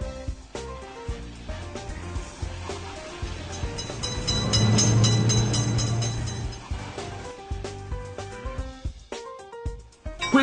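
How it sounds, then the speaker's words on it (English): In the Railroad Crossing video game, a train approaches as a low rolling rumble that swells mid-clip and subsides, mixed with continuous game music and sound effects. "Quick, train is noticed!"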